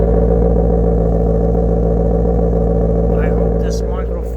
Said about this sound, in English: Let's listen to that exhaust a little bit.